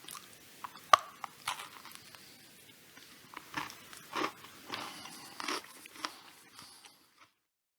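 Close, quiet crunching and chewing of chocolate and caramel Rolo pretzel bites, with irregular crisp bites and soft squishy chews spread over several seconds.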